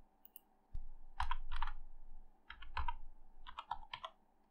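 Someone types a password on a computer keyboard, tapping out short quick bursts of keystrokes in several clusters separated by brief pauses, close and clear in a quiet room.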